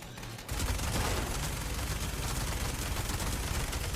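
Dense, continuous gunfire from the video game Fallout 76 roars in a loud, sustained barrage after a brief quieter start, with no talking heard.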